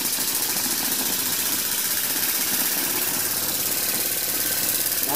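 A homemade steam engine runs at full throttle on live steam at about 20 PSI from a homemade boiler, giving a steady, fast, even mechanical chuffing and whir that carries close and continuously with no talk.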